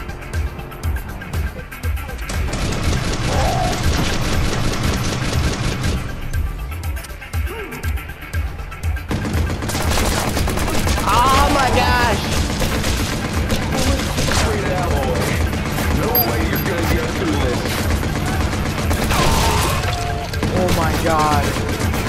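Video game gunfire keeps up nearly continuously under frantic shouting voices, with loud sustained shooting and bursts dense through the second half, mixed with other action noise.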